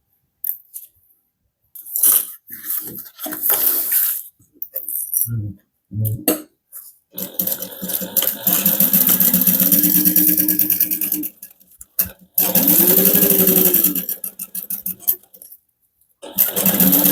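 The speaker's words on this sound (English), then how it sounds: "Make sure that you back stitch really well at the bottom because we will be turning the bag right side out." Sewing machine back stitching the bottom seam of a hobo bag, several short whirring bursts and stops between rustling handling noises, loud and close.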